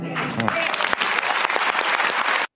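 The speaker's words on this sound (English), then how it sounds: "And they are clapping." An audience at a televised interview event bursts into loud clapping, with a voice briefly heard at the start before the applause runs on and stops abruptly.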